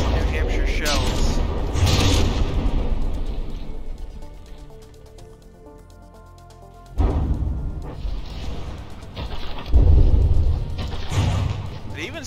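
Battleship shells firing and striking armor in the naval video game From the Depths, heavy thuds and booms in loud clusters separated by a quieter lull, with someone talking over them.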